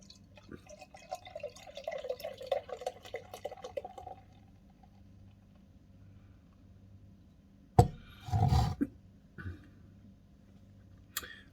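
Enville Blizzard 6.5% winter ale pours into a glass with a soft, rising glugging fill for a few seconds, then quiet, followed by a couple of brief liquid splashes and drips nearby.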